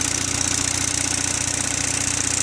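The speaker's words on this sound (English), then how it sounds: "Engine sounds really good." An Onan 5CCK generator runs under a 4,500-watt heater load, putting out a steady, close, loud engine drone with an even pulsing beat and a constant high whine.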